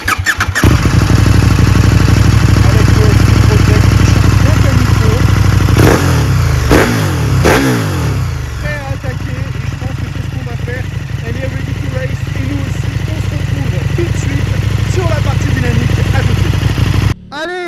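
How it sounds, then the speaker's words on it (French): A KTM Super Duke 1290 R from 2022, its 1300cc twin-cylinder engine running loud and close, with a brief blip of revs and squeal partway through before settling back into a steady, throbbing idle. "on va ébrouer le bicylindre de 1300 cm3"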